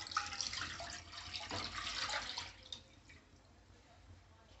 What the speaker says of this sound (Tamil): இப்போ மாவு மிக்ஸ் பண்ணுறதுக்கு 1 கப் அளவுக்கு தண்ணி சேர்த்துடலாம்